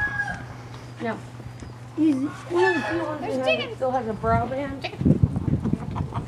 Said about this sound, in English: That's not a chicken, that's a rooster.